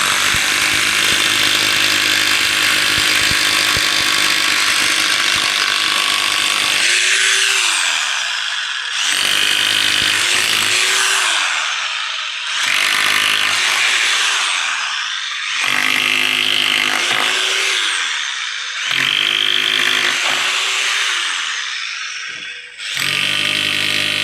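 A loud power drill with an 8 mm bit bores a hole for a wall plug on a building site. It whines steadily at first, then breaks into repeated surging bursts as the bit bites and eases off.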